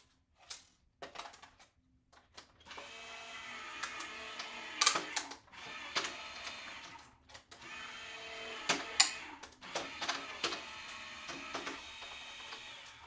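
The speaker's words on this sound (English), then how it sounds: "run it through my embossing machine over here." An embossing machine runs as paper crafting material is fed through it, giving a quiet, steady mechanical whir with scattered clicks and knocks over about ten seconds, with no voices.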